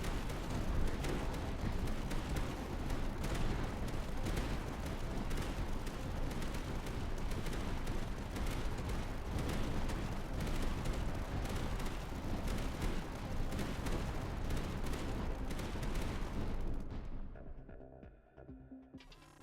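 Cannon towers in the Tower Dominion strategy game fire in a rapid, continuous barrage of overlapping booms and thuds that stays dense and steady before cutting off abruptly near the end.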